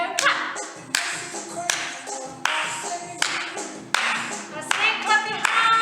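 Hands clap in a regular beat during a children's dance warm-up, sharp and close, layered over bright music that plays throughout.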